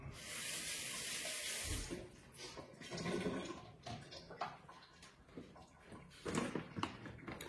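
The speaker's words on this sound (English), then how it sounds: "Just wash my hand." Water from a tap runs and splashes as a hand is washed at a sink, a soft close stream that starts strong and then breaks into uneven splashing, fairly quiet and with no talk.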